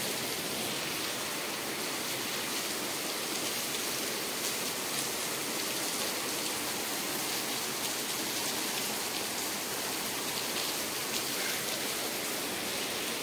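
Downpour heard from a balcony during a heavy pre-monsoon shower, a constant loud roar of rain striking surfaces with a faint patter of drops, unbroken and without talk.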